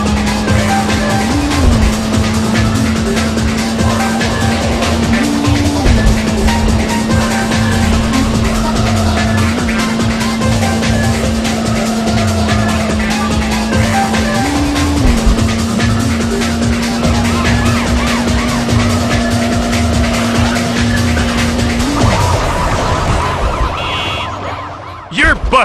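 Race cars in Need For Speed 3: Hot Pursuit on the Lost Canyons track, engines droning loud and steady through the final lap with tire squeal and a wailing police siren, ending abruptly.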